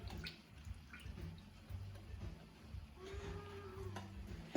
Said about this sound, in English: Just going to drain the water chestnuts.